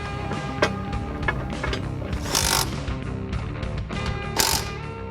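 Hand tool tightening bolts on the exhaust brace of a 2013-2018 Ford Focus ST during a cat-back exhaust install: a run of close, rapid metallic ratcheting clicks with a few sharper clanks and short scraping bursts.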